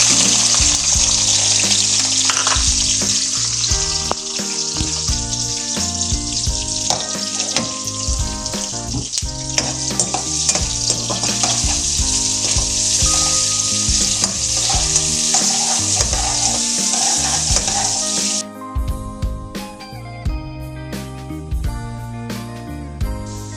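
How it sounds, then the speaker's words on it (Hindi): Loud, continuous sizzle of onion frying in hot oil, with stirring and scraping throughout, easing and turning clattery near the end; no voices. "गर्म हो जाए तो मैं प्याज डालती इसमें।"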